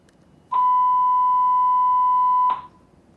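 A steady pure tone generated from a cosine wave sounds for about two seconds, clean and constant, starting and stopping abruptly against near silence.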